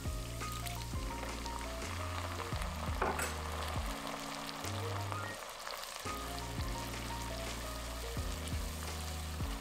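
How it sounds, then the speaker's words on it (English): Garlic sautés in a pan for a chicken Alfredo casserole, a continuous close sizzle running throughout, with a steady background hum layered beneath it. "Quickly saute the garlic for about 30 seconds until you smell a warm garlicky type smell."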